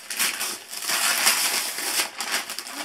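A paper-wrapped present being unwrapped at a family gathering, with continuous close rustling and tearing of wrapping paper, loud and steady throughout with a few sharper crinkles.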